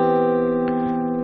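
Guitar chord with a major seventh, rung out once and sustained as a steady, close harmonic tone that does not fade over its short duration.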